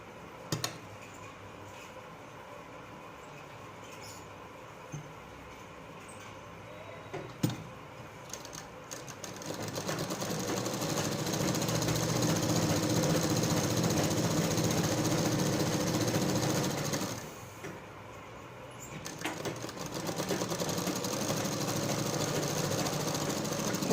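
A sewing machine stitches the collar of a coat dress in a steady mechanical whir lasting several seconds, preceded by a few clicks and handling noises, with a brief pause before it resumes.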